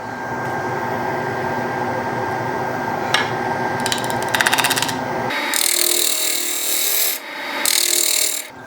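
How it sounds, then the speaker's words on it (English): A wooden octagon winged bowl spins on a lathe while a 16 mm bowl gouge cuts it, making a loud continuous hum and grinding rasp. The cutting breaks into intermittent chattering as the tool shifts partway through. "16 mil woodcut bowl gouge."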